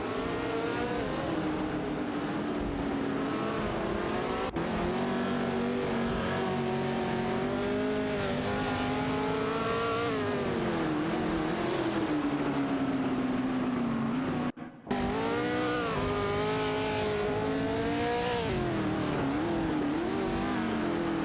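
Race car engines roar and accelerate continuously in an AI racing event, a dense pack of cars revving hard down a straight with rising and falling pitch, loud and close with one brief drop-out near the end.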